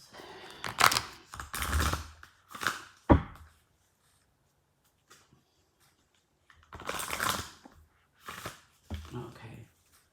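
Oracle cards being shuffled by hand in a few quick bursts, crisp riffling rushes separated by pauses, close and fairly loud, with a soft voice briefly in between.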